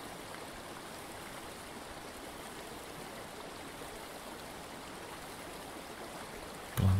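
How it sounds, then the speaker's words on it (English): A remote Scottish river flows steadily below, a continuous soft rush of stream water, even and unbroken, alone, with a brief bump at the very end. "as the water rushes past below you."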